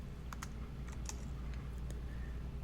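CSS code is typed on a computer keyboard, with scattered, quick key clicks and taps over a low steady background hum, close but fairly quiet.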